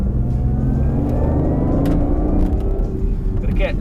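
BMW i8 in sport mode, its engine note partly synthesized through the cabin speakers: a steady mid-pitched engine hum and whir under accelerating, heard from inside the car with someone talking over it.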